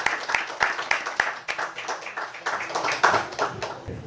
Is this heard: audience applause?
yes